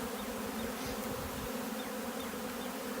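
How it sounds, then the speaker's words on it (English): Continuous low buzzing hum of many honey bees flying close by while a package of bees is installed at a hive, steady and dense with no talking. "we have a lot of bees flying. You're going to get some bees flying"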